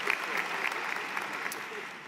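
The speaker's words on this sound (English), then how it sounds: "Another round of applause for Riccardo" Applause from an audience at a graduation ceremony for online undergraduate business and STEM programs, a steady sustained clapping of moderate loudness throughout the short stretch, with some faint voices mixed in.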